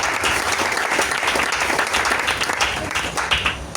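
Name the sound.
audience applauding for Jesus in church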